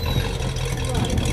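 A 1968 Ford LTD engine runs with a deep, rumbling idle close by, steady and loud, while someone talks over it.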